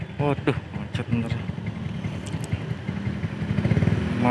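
Motorcycles and cars idle and creep in a traffic jam on Margonda road in Depok, a steady low engine rumble with a nearby engine revving toward the end, while someone talks over it.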